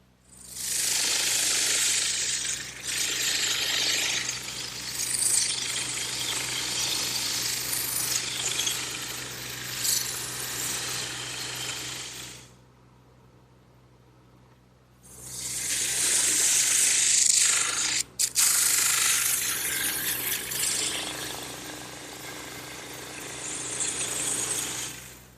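A drum sander smooths the ends of wooden Adirondack chair pieces, a loud steady grinding whir that runs for about twelve seconds, stops briefly, then starts again for the rest of the clip.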